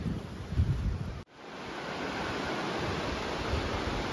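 A river runs beside a mountain hiking trail with a steady, loud rushing hiss. A brief dropout near the start interrupts it before the flow returns, even and continuous.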